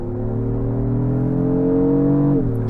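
A 2024 Lexus GX 550 launching hard in Sport Plus mode from a brake-boosted start, its engine droning loud and close with a steadily climbing pitch, then dropping briefly as it shifts gear near the end.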